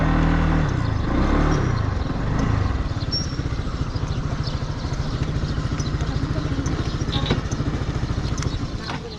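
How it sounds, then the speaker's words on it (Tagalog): A motorcycle engine idles and revs close by as the bike is moved indoors, a steady low chugging rumble with some clatter and faint voices in the background. "So ito, naipasok yung motor dito."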